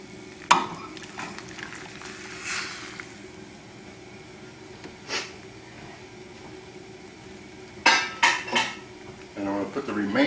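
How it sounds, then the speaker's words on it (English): Cream sauce poured into a hot skillet used for lobster ravioli sauce, with metal utensil clinks and scraping as it is stirred, a few sharp clatters of pan and spoon over quiet background. "And I'm going to put the remainder of the cream sauce in there."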